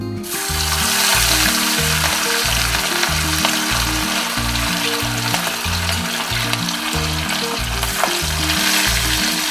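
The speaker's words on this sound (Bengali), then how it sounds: "প্রথমে আমি মাছগুলো ভেজে নেব" Pieces of rohu fish frying in hot oil in a kadai, a loud, close, continuous sizzle with spatter and occasional stirring, no talking.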